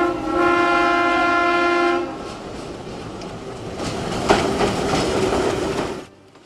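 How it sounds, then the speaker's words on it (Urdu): Train horn sounds loud and sustained for about two seconds as a train approaches a trackside market area, followed by the rumble and clatter of the passing train. "جب ریل گاڑی آنے کی سیٹی بجتی ہے"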